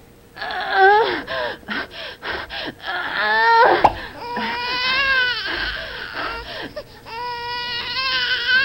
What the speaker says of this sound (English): This is the sound of a typical childbirth.